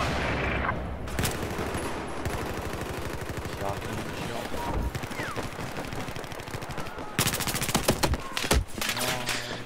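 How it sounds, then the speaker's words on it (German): Automatic weapons fire in the video game Battlefield 4 rattles in long rapid bursts with brief pauses, loud and close, while players talk over it. "Schieß einfach mal eine 100 Schuss raus, so schnell wie es geht."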